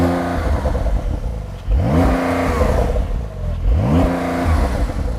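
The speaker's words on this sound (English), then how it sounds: "Start the car up, give it some revs." Car engine with a £2,180 sports exhaust system starting and revving while stationary, rising in two loud rev sweeps that hit a soft limiter, with a steady idle rumble between them.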